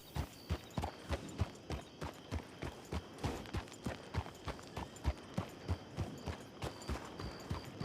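Horse galloping along a long street in a video game, a fast, even run of hoof clip-clops close by, loud and steady throughout with no talk.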